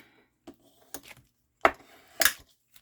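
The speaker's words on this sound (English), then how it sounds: "Now, I'm going to burnish that down." A paper fold is burnished down by hand, giving a handful of short dry rubbing and scraping strokes up close, the later two louder, with no voices.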